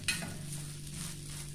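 Vegetable ragi dosa cooks in a pan over low heat, giving a soft, steady sizzle after a brief scrape at the start, faint and continuous with no talk.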